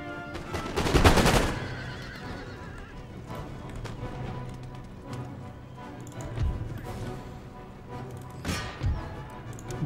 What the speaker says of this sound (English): Go on, blast a volley into that general's bodyguard.